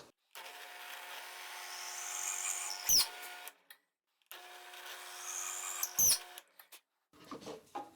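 Drilling a hole into wood clamped against a fence with an old bit, two steady whining runs of a couple of seconds each, each ending in a sharp catch and a brief thump, close by with no talk.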